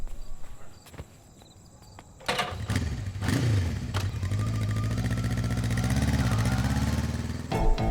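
An auto rickshaw engine starts and keeps running in a street scene from a South Indian movie, a loud steady rattling putter that swells after a few quiet seconds and stays close throughout.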